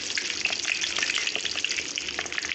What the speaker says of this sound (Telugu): ఆవాలు పోసుకుని వేగినాయండి